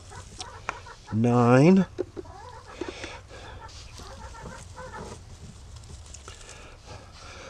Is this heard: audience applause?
no